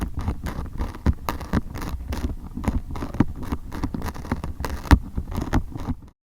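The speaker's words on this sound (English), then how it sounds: "recording things like caterpillars eating leaves" Caterpillars munching on leaves, picked up through a contact mic at very high gain: dense, irregular crackly pattering and tiny scrapes, close and steady, with no voices.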